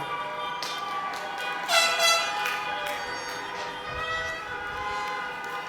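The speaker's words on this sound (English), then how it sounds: "Or honk." Car horns honking from vehicles at an outdoor drive-in high school graduation, several overlapping honks sounding moderately distant amid crowd ambience, with a few louder bursts.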